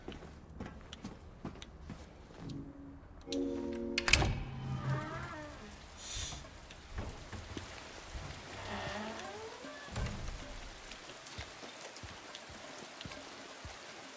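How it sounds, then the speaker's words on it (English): Steady rain in Silent Hill 2 Remake, a soft continuous patter with a few louder knocks and footstep-like thuds mixed in. "I love looking up when, like, it's raining."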